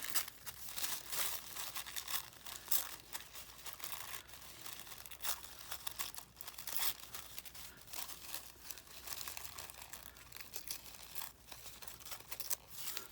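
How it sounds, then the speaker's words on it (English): A paper napkin is torn and crinkled by hand, a long run of soft irregular rips and rustles with small crisp bursts, fairly quiet and close, with no voices. "let's rip it this direction"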